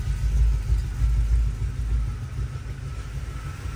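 A GM Performance crate 350 V8 idles just after a cold start, giving a steady, deep, loud rumble with a slight uneven throb and no voices over it.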